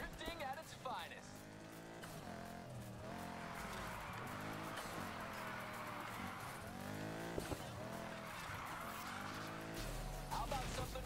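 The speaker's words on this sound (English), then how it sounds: "Drifting at its finest" A car drifting in the video game Need for Speed Heat, engine revving in rising and falling sweeps with long tire squeals and skids, loud and continuous, with a voice talking over it.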